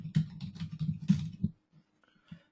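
Quick keystrokes tap on a computer keyboard as a username is entered, a close, fairly quiet burst of clicks lasting about a second and a half, followed by a pause and one last key press.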